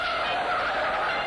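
Car tires skid in a 1950s drunk-driving film as the driver loses control, a loud, steady tire squeal held for the whole short moment with no voices.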